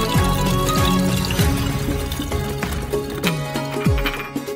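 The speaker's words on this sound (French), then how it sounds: "Versez 2 bouteilles d'alcool dans la fiole." Two bottles of alcohol being poured into a glass flask: a steady, continuous glugging flow with recurring bubble gulps, close and loud throughout.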